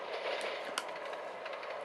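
In the Trainz Simulator 2 rail game, a TGV Duplex high-speed train passes as a faint, steady rushing rumble with light clicks, heard alone without speech.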